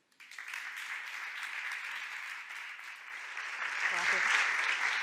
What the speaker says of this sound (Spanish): os pido un fuertísimo aplauso